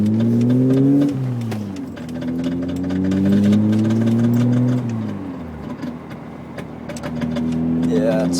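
A 1986 BMW 325e engine idles and revs with a rough, uneven hum, falling and rising in pitch, while a repetitive clicking ticks through it close by.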